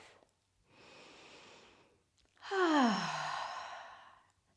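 Two slow breaths are taken during a mindfulness exercise in a park: a soft, airy inhale, a pause, then a louder, longer exhale like a sigh, close and with no other sound.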